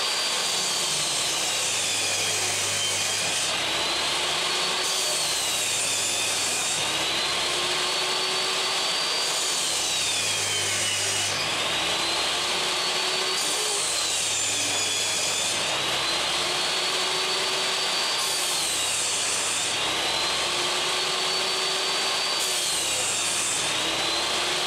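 A loud table saw runs continuously, its pitch dipping and rising in a repeating cycle as wooden boards are fed through, with a steady motor drone underneath.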